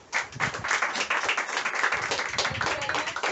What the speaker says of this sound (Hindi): दोनों के सम्मान में एक बार तालियां हो सकती